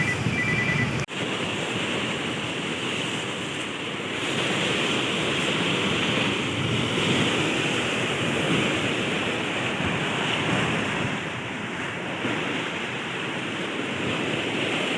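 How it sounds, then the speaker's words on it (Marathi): Rough sea on the Ratnagiri coast during bait fishing, big waves breaking in a continuous loud roar of surf with steady wind rumble, no voices. "लाटा बघा मोठ्या मोठ्या येत आहेत"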